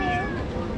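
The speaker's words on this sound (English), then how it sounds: "Today we are here with the famous cat, Travis." A cat gives a short, clear meow that falls in pitch, heard close and loud for under a second.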